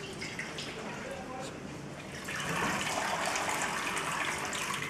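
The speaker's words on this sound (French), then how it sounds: "Dès que le légume est froid, je l'égoutte dans une plaque à débarrasser." Water pouring and draining as cooled blanched vegetables are tipped into a tray, a soft trickle that swells into a steady gushing splash partway through, close and moderately loud.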